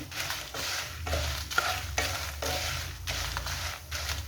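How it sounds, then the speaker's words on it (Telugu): Cumin, coriander seeds and dried red chillies fry in a pan over low heat while being stirred, giving a steady close sizzle broken by regular scraping strokes about every half second, with no talking. "ఇప్పుడు ఇవన్నీ మంచిగా ఫ్రై అయ్యేలా కలుపుకుంటాను."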